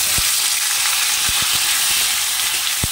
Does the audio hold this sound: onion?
yes